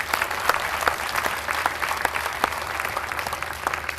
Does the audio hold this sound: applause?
yes